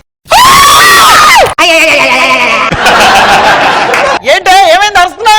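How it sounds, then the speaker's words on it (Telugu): A woman screams loudly and shrilly in a comedy skit on a television stage, with several sustained cries broken by short gaps, while a studio audience laughs and cheers and voices talk over her. "ఏంటే ఏమైంది, అరుస్తున్నావేంటి?"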